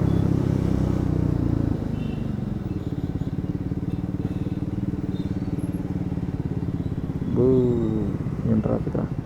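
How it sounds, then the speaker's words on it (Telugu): Road traffic passes around a motorcycle rider, with a steady low engine drone and clattering noise throughout, louder at first, plus a brief horn-like tone near the end. "ఈరోజు ఇంత ట్రాఫిక్ ఉంది."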